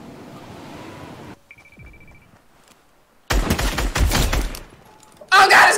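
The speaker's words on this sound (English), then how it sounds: "Oh god, I just got shot up from this east, dude!" Video game gunfire comes in sudden loud bursts, a rapid volley of shots after a quiet stretch, then another harsh crackling burst at the end, with brief tones and faint noise between.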